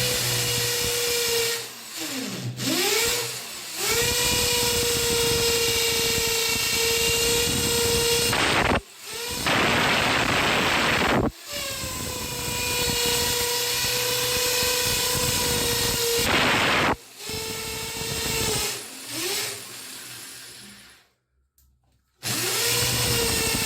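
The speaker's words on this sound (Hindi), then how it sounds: "ड्रिल मशीन से देखो मैंने ये होल कर दिया" A power drill bores a hole at home, its motor whining steadily at high pitch in long loud runs, stopping and restarting several times with short gaps, the last pause near the end.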